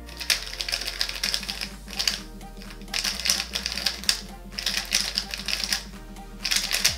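A YueXiao Pro speedcube, a newer version with square corners and plenty of factory lube, being turned in rapid clicky bursts of plastic rattling with short pauses between flurries, close and fairly loud, without talk.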